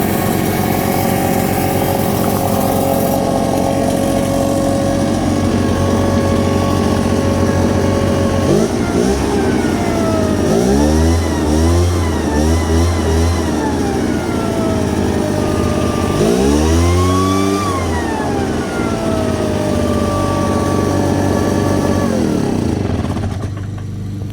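Backpack leaf blower with a small two-stroke gas engine running loud and close throughout, its whine rising and falling as the throttle is opened twice, then settling back to idle.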